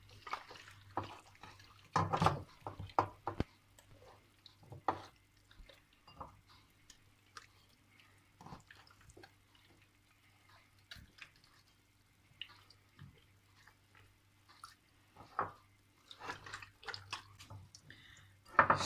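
Hands rub a sauce mixture over raw chicken, making quiet, sporadic wet squelches and smacks with long soft pauses between bursts of handling.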